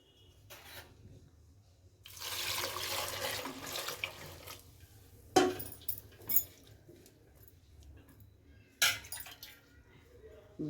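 Water pours into a cooking pot holding tomatoes, onion, cumin and chili powder for a Mandya-style greens and lentil sambar, a few seconds of close splashing flow followed by scattered clinks and knocks.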